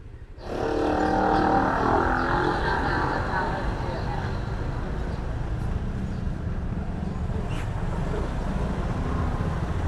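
On a narrow, congested lakeshore road, engines rumble in a steady, dense wash of traffic noise that fills the whole stretch. A faint voice is heard underneath.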